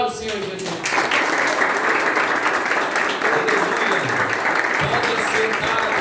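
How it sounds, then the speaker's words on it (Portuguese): Sunday church congregation breaking into loud, sustained applause that fills the room, with a voice speaking over the clapping. "Uma forte salva de palmas para o Senhor Jesus."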